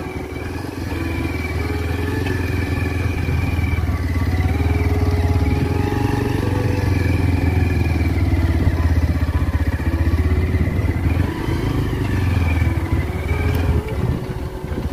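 A motorcycle engine drones steadily and loudly throughout, with a mid-pitched rumble that rises and falls slightly as it rides along.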